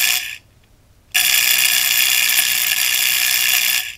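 A loud, harsh buzzing crackle of electric sparking from a high-voltage spark generator cuts in briefly, stops for under a second, then resumes in a steady sustained burst before cutting off.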